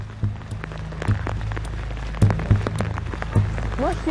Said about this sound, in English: in a downpour.